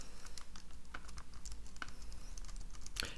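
Typing on a standard computer keyboard with slightly stiff keys: quick, irregular keystroke clicks and taps in a close, quiet room, with a brighter key strike near the end and no talking.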